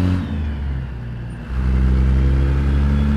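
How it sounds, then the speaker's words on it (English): Caterpillar C16 truck engine in American Truck Simulator, heard with windows down, a deep steady rumble that drops briefly then swells louder as the engine pulls. "Got the windows down so you can listen to the sweet Z16 Caterpillar."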